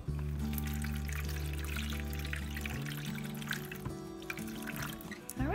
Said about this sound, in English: I'm just going to pour a little bit of water in them and let it soak up into the cups.